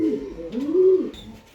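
A single close coo from a male pigeon calling to a female, a soft throaty rising and falling call lasting about a second, alone in a quiet space.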